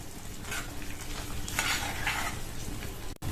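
Mushroom thokku with curry leaves and chopped coriander is stirred in a hot pan, with a spatula scraping and clattering over a steady sizzle, close and without speech.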